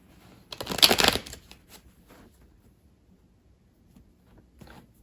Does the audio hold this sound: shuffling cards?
yes